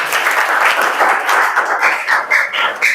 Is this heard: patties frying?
no